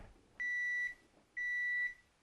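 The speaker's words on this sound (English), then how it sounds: "The alarm's going off. It means it's biscuit time." An oven timer alarm sounds as biscuits finish baking: two clear, evenly spaced electronic beeps, each about half a second long, loud and close in a quiet room.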